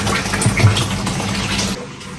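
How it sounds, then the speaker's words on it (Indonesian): A four-outlet aquarium aerator pump runs beside a styrofoam tub of water, giving a steady low mechanical hum and faint bubbling throughout that drops away near the end. "Untuk mesin aerator saya memakai mesin yang 4 lubang"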